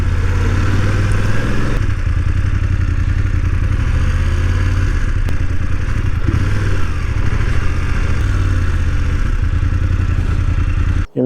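Motorcycle engine idling steadily and loud while stopped inside Priory Park in Southend-on-Sea, a continuous close rumble with slight clatter that cuts off abruptly at the end.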